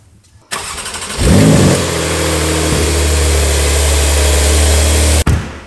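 A red Porsche 911 engine cranks briefly with a rhythmic starter whir, then fires into a loud, deep rumble that settles into a steady close idle before a brief cutoff near the end.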